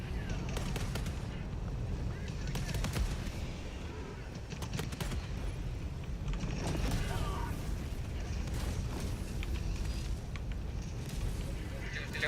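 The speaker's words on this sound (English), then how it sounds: "Firing orbital barrage." Orbital barrage explosions thunder in the Helldivers 2 game, repeated heavy booms and crackling blasts over a dense rumbling battlefield din that continues without a break.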